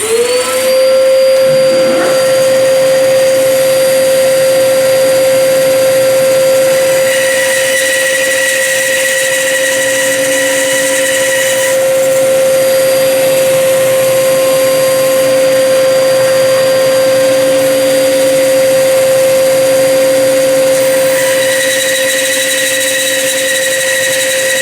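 A bandsaw or similar power saw runs loud and steady, cutting curved wooden segments for a segmented drum shell, with a sustained whining hum and a sharp start at the beginning.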